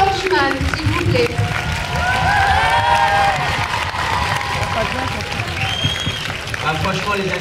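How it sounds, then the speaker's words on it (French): Sustained applause and cheering from a large crowd at a Kev Adams film appearance in Charleville, welcoming the producer, with shouts and whoops rising over continuous clapping. "Le réalisateur Lionel Stiviti, s'il vous plaît, sous vos applaudissements."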